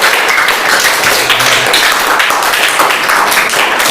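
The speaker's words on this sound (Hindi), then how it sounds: "ताली बजाइए साक्षी के लिए।" Students in a coaching class give a loud burst of applause for a classmate, dense, close clapping that stays steady throughout.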